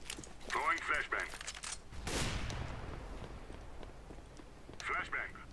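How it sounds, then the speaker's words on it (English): A flashbang grenade bursts in a Counter-Strike match: one sharp, loud broadband blast that rings and fades over a couple of seconds, with bright clicks and sounds of movement before and after it. "Throwing flashbang."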